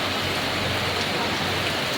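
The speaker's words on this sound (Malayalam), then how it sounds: "ഇങ്ങനെ ശക്തമായ മഴയാണ്" Heavy rain pours down steadily, a dense, loud hiss of drops drumming on surfaces with no break.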